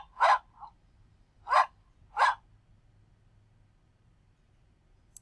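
A dog barks three times, short sharp barks spaced about a second apart over a quiet background, fairly close.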